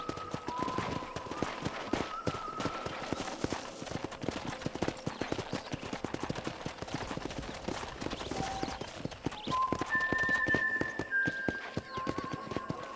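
Steady clip-clop of horse hooves at a walking pace in Red Dead Redemption, with soft tonal game music and a brief whinny-like tone near the end.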